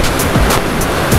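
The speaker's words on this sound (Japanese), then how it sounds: "正面すごい波しぶき、テトラにぶち当たって" Waves spraying against a tetrapod breakwater at a surf spot in strong onshore wind, a close, loud, continuous rush of surf and spray with heavy wind noise.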